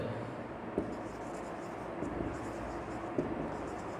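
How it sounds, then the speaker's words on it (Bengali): A marker or chalk writing out text on a board during an English grammar lesson, steady scratchy strokes with a few sharp taps, under continuous room noise and faint speech. "আমি পুরোটা লিখছি আপনাদের বুঝতে সুবিধা হবে"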